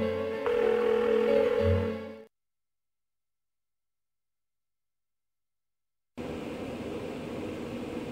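A telephone call in Persona 4 rings out unanswered, a steady electronic tone lasting about two seconds, then dead silence, then a noisy hiss that returns and holds to the end.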